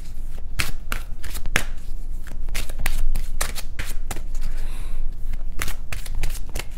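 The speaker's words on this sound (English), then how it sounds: "I'm going to be shuffling the cards." A deck of tarot cards is shuffled close up in a continuous run of crisp riffling and slapping clicks for several seconds, with no voice over it.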